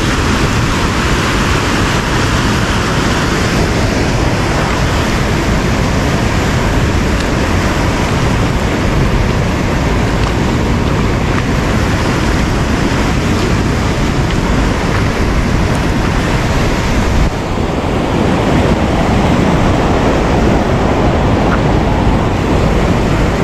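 Rushing water of the Citanduy River at the Leuwikeris dam, a loud, dense, unbroken roar that stays steady throughout with no voices.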